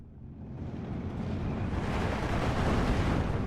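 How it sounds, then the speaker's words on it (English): Mortar shells burst in the real-time strategy video game Steel Division 2, a deep rumbling blast that swells from a low roar into a broad, sustained explosive wash, with no talk over it. "Mortars coming in."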